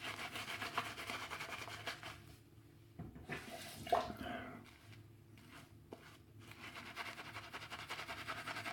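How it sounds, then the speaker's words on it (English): Wet, rhythmic swishing and rubbing of a shaving brush working LEA shaving soap into lather, close up, pausing briefly in the middle before resuming. "As you see, it builds a fantastic lather."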